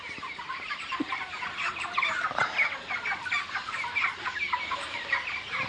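Thirty-two-day-old chickens on a poultry farm, fed a fermented mixed feed, cluck continuously as a busy flock, with many overlapping birds at moderate volume and no speech.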